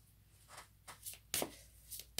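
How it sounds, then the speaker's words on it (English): Tarot cards being shuffled by hand in a quiet room, with several soft separate riffles and taps, louder toward the end. "as I shuffle the cards"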